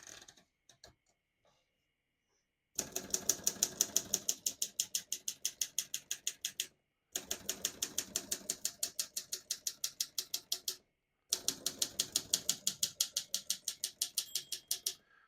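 Rapid, even keystrokes on a 1955 Olympia SM3 portable manual typewriter, close and crisp, in three long bursts separated by short pauses, with no voices.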